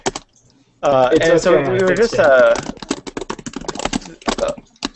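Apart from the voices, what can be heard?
loud computer keyboard typing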